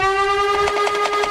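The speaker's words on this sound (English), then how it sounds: "this is how the blaster sounds" A toy foam dart blaster's flywheels spinning at low speed: a steady high motor whine with a strong constant pitch, accompanied by a faint rapid whirring flutter, no voices.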